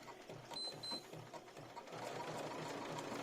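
A Janome embroidery machine stitches out lace motifs, a quick regular needle clatter close by, fairly quiet and steady, growing slightly busier toward the end.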